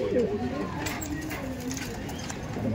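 Pigeons kept in a workshop loft coo in low, rolling calls close by, while someone talks over them most of the time.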